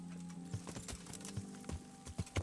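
A horse in the medieval video game Kingdom Come: Deliverance gives several close, sharp hoof clops at an uneven walking pace, with a faint steady hum beneath.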